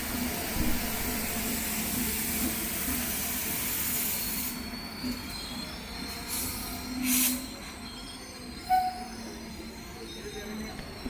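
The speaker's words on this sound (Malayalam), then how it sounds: "എന്നാൽ പിന്നെ ഒരു യാത്ര വന്ദേ ഭാരതിലായിക്കോട്ടെ എന്ന് വിചാരിച്ചു" A Vande Bharat express train running, with a steady low rumble of wheels on rails and occasional faint squeals under a continuous rushing noise inside the carriage.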